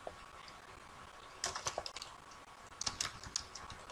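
Someone types code on a computer keyboard: after a quiet start, two short clusters of crisp, close keystrokes tap out in quick succession with a brief gap between, no speech.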